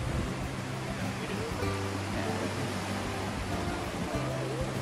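Broad steady surf rolls along a wide, busy beach at Torrevieja, a constant close wash of waves with faint crowd murmur and low tonal hum underneath.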